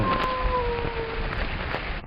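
Heavy rainfall in a bus driving video game hisses as a steady, close wash of noise, with a faint tonal hum underneath and no talking.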